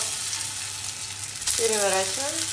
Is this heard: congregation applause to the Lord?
no